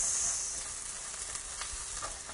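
Vegetables sizzling and frying in a pan on medium-high heat, a soft continuous crackle and hiss with small pops, heard close and alone.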